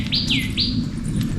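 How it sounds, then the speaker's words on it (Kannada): A small bird on the Valli Malai hill trail near Vellore gives two or three quick, bright downward-sweeping chirps close by, over a low outdoor rumble. "ನೋಡಿ ಪಕ್ಷಿ ಹೆಂಗಿಸ್ತಾ ಇದೆ ಅಂತ"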